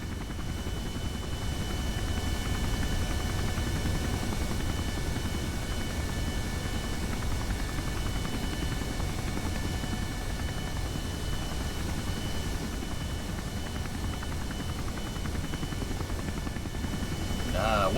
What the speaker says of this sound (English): That's literally a YouTube video I have up of a helicopter sound effect.